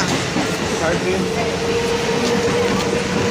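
A train passes through a tunnel near Chinsurah railway station, a steady loud rumble of rail cars with a faint high wheel whine running under it throughout.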